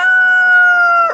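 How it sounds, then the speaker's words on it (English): A rooster crows once in a single long, steady, loud call that ends abruptly, with no other sounds around it. "I may use this gun to shoot that rooster."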